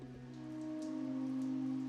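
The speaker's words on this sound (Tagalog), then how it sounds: "yung patak ng ulan sa labas" Rain drops fall steadily outside, a soft continuous patter beneath the strong, even hum of an air conditioner running nearby.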